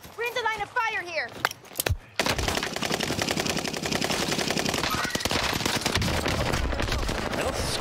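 Rapid automatic gunfire in the video game Escape from Tarkov, dense bursts of close shots running without pause after a short opening stretch where a voice speaks.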